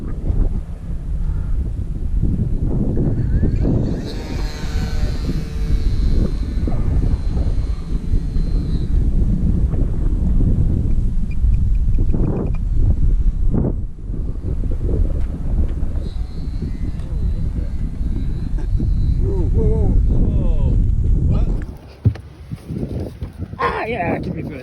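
An RC Spitfire model airplane flies with a steady motor drone through heavy wind buffeting on the microphone, ending in a sudden crash landing thump, with people talking over much of it.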